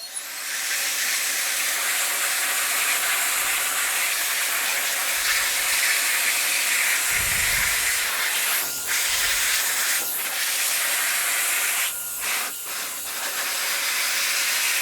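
An Airbition electric air duster with an LED light blasts a steady, loud rush of air that holds nearly constant for the whole stretch, with only slight dips and flutters, and no one speaking.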